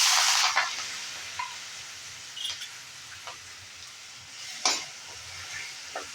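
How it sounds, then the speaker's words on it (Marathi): Fresh coconut, green chili paste, garlic and curry leaves sauté in a hot pan for a Maharashtrian white pea usal. A steady sizzling hiss runs throughout, with scattered spoon scrapes and stirring clicks and no talking. "आणि हे 1-2 मिनटं छान परतायचं आहे."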